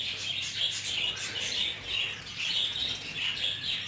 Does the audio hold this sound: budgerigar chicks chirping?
yes